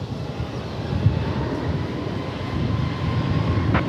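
Boeing 737 Max 8 airliner on a takeoff attempt at DFW Airport, a distant, steady broadband engine roar heard alone with no talk.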